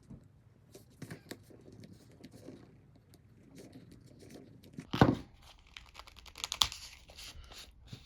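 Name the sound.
slicing open plastic packaging of a coin set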